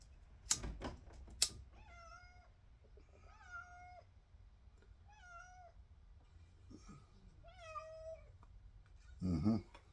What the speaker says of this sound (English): You hear that meow? The cat wants back in.